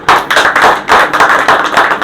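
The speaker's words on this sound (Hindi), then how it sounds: "ताली बजाओ" A church congregation at a Hindi-language sermon claps hands in a quick, steady rhythm, with loud, sharp, evenly spaced claps and no talk over them.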